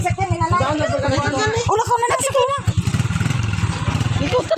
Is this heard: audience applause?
no